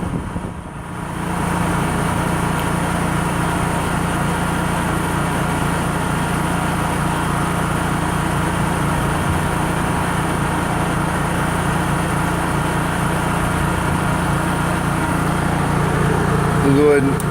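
Honda EU3000is generator running on propane, unloaded with eco throttle off, a steady close engine drone holding an even pitch with a slight bounce throughout.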